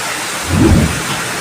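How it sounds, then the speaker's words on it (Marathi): A steady hiss of heavy rain pours down in Murud village during flooding, with a brief low rumble swelling and fading in the middle. "मुरुडमध्ये एवढा पाऊस झाला आहे"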